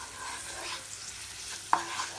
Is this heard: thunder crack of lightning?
no